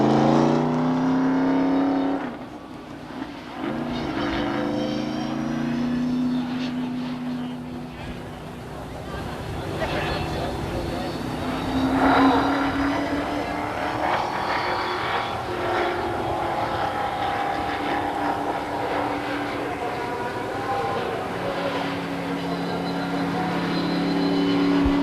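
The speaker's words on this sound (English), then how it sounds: "down to the start-finish line to pick up the checkered flag, your winner, car number 54, Bobby Coburn" Race cars at Beech Ridge Motor Speedway in 1991 roar continuously around the oval during a heat, a loud sustained engine drone that swells as cars pass, with an announcer's amplified voice over the top.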